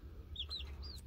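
Faint, soft clucks and high chirping peeps from backyard chickens and young chicks, a few short calls over a low hum, distant and quiet, no talking.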